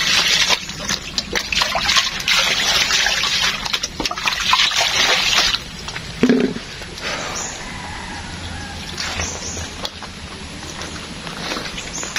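Water splashing and trickling at a village well in the mountains, a busy patter close by that grows quieter and thinner toward the end, with a brief thud midway.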